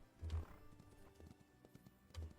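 Horse hooves clip-clop in the video game Ranch of Rivershine, where wild horses spawn, as a few soft, separate thuds over quiet game ambience, with one heavier step near the start and another near the end.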